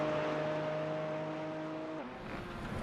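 A race car in a sim racing game climbs a hill and crests it on the way back to the start-finish line, its engine holding a steady tonal drone that drops in pitch as it goes over, loud and close throughout.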